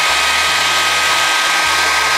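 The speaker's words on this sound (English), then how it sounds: "I'm gonna use a hair dryer" Hair dryer blowing steadily on a carbon fiber decal on a Ferrari 488 Pista model, a loud continuous whoosh of airflow with a faint motor hum, close and alone.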